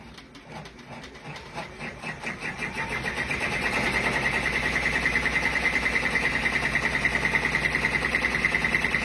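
Sewing or embroidery machine stitching the final stitch-out of a heart-shaped zipper pouch, a steady rapid mechanical chatter that starts uneven and settles into a fast, even rhythm, close and continuous with no talk.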